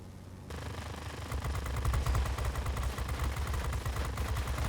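Rapid machine gun fire from tail gunners on enemy aircraft in World of Warplanes, a dense continuous clattering burst that keeps going at steady loudness over engine drone.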